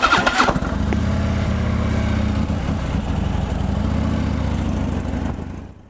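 A Harley-Davidson Road King motorcycle engine cranks with a brief starter whir, catches, and settles into a loud, close, lumpy idle rumble that runs steadily before being cut off.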